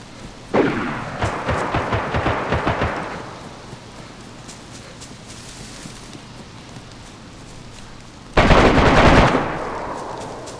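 AK rifle gunfire in DayZ on Xbox, first as a rapid automatic burst of a dozen or so shots that tails off, then after a quiet stretch a second loud, dense burst.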